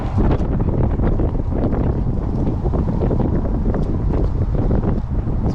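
Strong outdoor wind batters a microphone at a flying field, a loud, continuous low rumble with gusty roaring surges and no break for the whole stretch.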